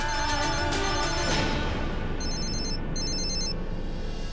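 A phone ringtone plays in short repeated electronic bursts over a busy background of music or room noise, fairly loud and close.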